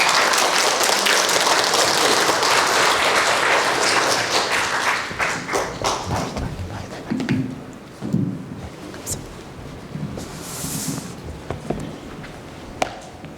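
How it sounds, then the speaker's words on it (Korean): A church congregation at a summer revival service claps to welcome the pastor, loud dense applause at first that thins into scattered claps and a few thuds as it fades, with a voice speaking briefly. "박수로 환영하면서 나오시기 바랍니다"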